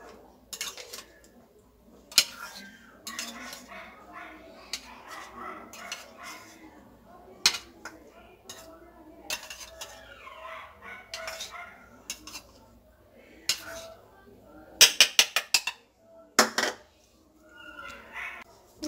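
A spoon mixes food colouring in several small bowls for homemade tutti frutti candy, giving light scraping and sharp clinks against the bowls, with a cluster of louder rapid clinks near the end.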